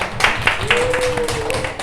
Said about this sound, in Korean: 우리 큰 박수 보내주세요